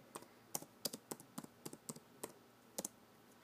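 A computer keyboard is typed on in short, irregular bursts of quiet clicks, about a dozen sharp keystrokes spread across a few seconds with brief pauses between, close and soft, no voices.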